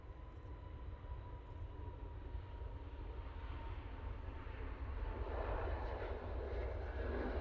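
An easyJet airliner taking off from Manchester Airport for Catania, a steady broad roar of jet engines that swells slightly toward the end, heard from a distance with no voices.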